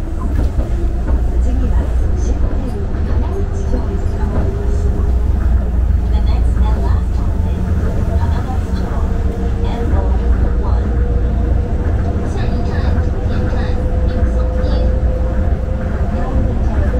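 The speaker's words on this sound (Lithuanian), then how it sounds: "Tik dabar traukinys išvažiavo." A train pulls out of a station in Tokyo with a steady, close low rumble and a slowly rising electric whine, while voices carry on over it.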